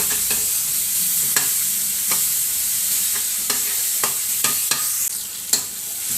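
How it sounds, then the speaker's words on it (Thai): Garlic and chili stir-fried in hot oil, a steady close sizzle broken by repeated sharp scrapes and clacks of a spatula against the pan, with no voices. "ผัดกระเทียมให้หอมค่ะพี่น้อง"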